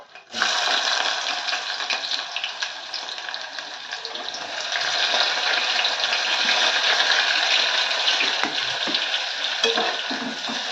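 Onions frying in oil for an okra and egg curry, a steady dense sizzle with constant crackle that runs close and loud without break, and no voices.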